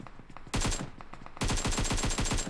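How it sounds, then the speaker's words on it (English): Rapid rifle shots from a Mini 14 in PUBG Mobile, loud and sharp: a short burst of a few cracks, a pause, then a longer steady string of repeated shots with a ringing metallic tail. "Percocet with some long-range Mini 14 shots."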